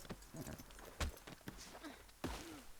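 Horse hooves in the video game Red Dead Redemption 2, a few soft clip-clop steps at an uneven walking pace, fairly faint, with light game sounds and murmured voice around them.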